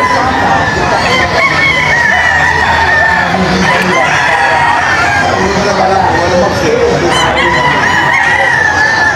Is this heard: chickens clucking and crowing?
yes